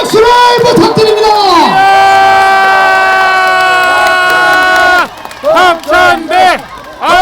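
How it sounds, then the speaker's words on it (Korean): Rally crowd at an outdoor protest gathering in a public square cheering and applauding loudly and continuously, with strong sustained voiced shouts, then choppier bursts of chanting toward the end. "박찬대 최고위원에게 다시 한번 큰 박수를 부탁드립니다."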